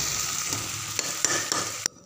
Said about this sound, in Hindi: अब इसमें डालेंगे सारे मसाले।